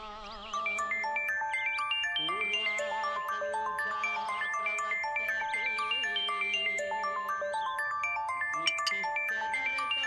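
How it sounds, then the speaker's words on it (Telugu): A melodic electronic ringtone plays continuously, a bright repeating tune of chiming notes at steady volume. "ఫోన్ రింగ్ అవుతుంది, వినపడడం లేదా"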